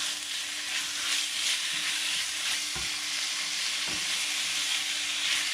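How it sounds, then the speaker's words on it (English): Chicken searing in a pan over high heat for a curry, a steady loud sizzle and hiss of frying that runs continuously with a few faint clinks of stirring. "I've kept the heat to almost medium and turning it to high. I want to seal the chicken very quickly."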